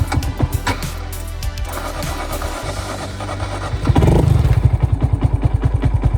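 A 2022 Honda Grom motorcycle cranks and starts, its small single-cylinder engine catching and then settling into a rapid, loud, pulsing idle close by.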